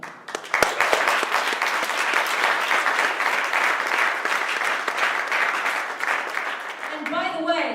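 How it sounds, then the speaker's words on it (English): Sustained audience clapping fills a keynote hall on gender-based violence, loud and even throughout with occasional cheers, and a voice begins speaking just as it tapers off. "you're all clapping"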